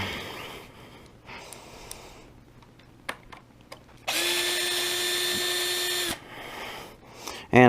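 A power drill backs out the side screws of an X-MAXX steering servo's inner cage in one steady two-second whir, close and loud, amid small clicks and handling noises.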